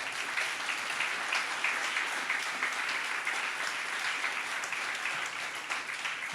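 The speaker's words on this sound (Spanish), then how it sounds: "Denle un aplauso a Dios por lo que hace el Señor" Steady applause from a large church congregation, a dense wash of clapping that holds evenly throughout with no talking.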